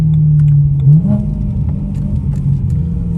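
A BMW E92 M3 engine with a loud aftermarket exhaust roars close by, a deep steady drone that swells briefly with a rev near the start and then holds a heavy rumble throughout.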